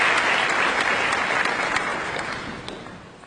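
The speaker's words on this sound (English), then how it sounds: "Give yourself a big round of applause." A school audience at a ceremony gives a dense, sustained round of applause that fades gradually toward the end, with no talking over it.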